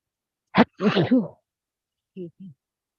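A single sharp sneeze bursts out, followed by a short vocal sound and then two quieter brief voiced sounds after a pause.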